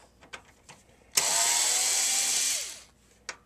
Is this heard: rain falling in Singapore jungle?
no